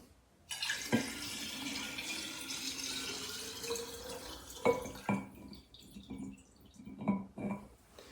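Water is poured into alcohol while making a classic Pryluky-style liqueur, a quiet trickling, splashing stream near the microphone that runs for several seconds and then breaks into a few separate drips and clinks.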